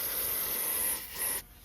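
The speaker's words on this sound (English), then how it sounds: "I should have sprayed it with that silicone spray first." An aerosol can of silicone spray hisses steadily in two close bursts, with a short pause between them, during a car water pump replacement.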